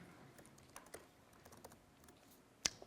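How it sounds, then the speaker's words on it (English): Soft, irregular computer keyboard typing on a conference stage in a quiet room, a few scattered keystrokes followed by one sharper, louder click near the end. "I'm not used to typing"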